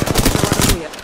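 Rapid automatic gunfire from an Apex Legends match, a tight burst of repeated shots about a second long, close and loud before cutting off.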